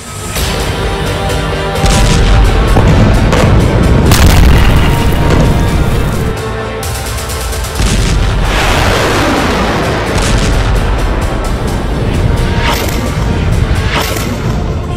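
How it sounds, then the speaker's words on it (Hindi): Bunker buster bomb explosions in the Israel–Hamas war, heavy deep booms and rumbling blasts rolling one after another, loud and sustained with crackling debris. "ये ऐसा बम है जो जमीन के 60 मीटर अंदर जाकर धमाका करता है।"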